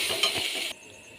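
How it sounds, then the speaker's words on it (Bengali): Mung dal stirred into a hot pan, heard as a brief close sizzle with a spoon scrape that cuts off abruptly after under a second. "ডাল দিয়ে ডালটা ভালোভাবে মিশিয়ে নিলাম।"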